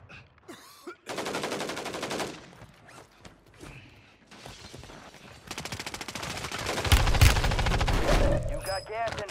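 Gunfire in a Warzone battle royale match comes as dense, rapid automatic bursts, building louder toward the end among explosions and mechanical clatter, with faint voices mixed in.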